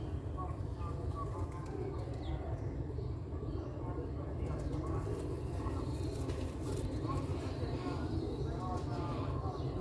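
Ferozpuri pigeons coo softly and repeatedly over a constant low hum, with occasional rustling and faint voices in the background.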